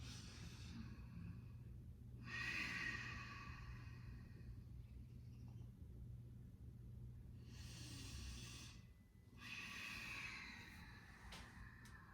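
Two long, slow breaths taken in a yoga forward fold, each a soft airy rush lasting a couple of seconds, faint and close with quiet between them and no speech.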